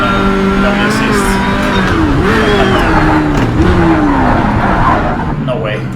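A 1970s Le Mans race car in Project Cars 3 roars through gear changes and braking, its engine pitch rising and dipping with tire scrub, loud and continuous under a talking player.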